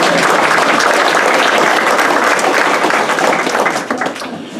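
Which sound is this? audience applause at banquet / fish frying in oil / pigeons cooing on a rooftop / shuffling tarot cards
audience applause at banquet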